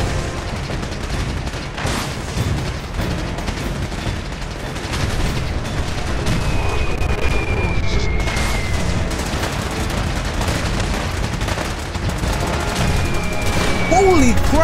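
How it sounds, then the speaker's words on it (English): Game battle audio from Fallout 4, with Liberty Prime fighting a synth army: dense, continuous gunfire and booming explosions roll through the whole stretch, loud and sustained, with laser-like whines streaking over the din. "Holy crap! That nuclear explosion take a lot of the synth army out."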